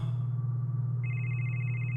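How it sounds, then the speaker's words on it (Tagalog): An old cellphone ringtone starts partway through, a bright, steady electronic ringing tone over a constant low hum, clear and fairly close. "Nakarinig ako ng isang lumang ringtone mula sa isang cellphone."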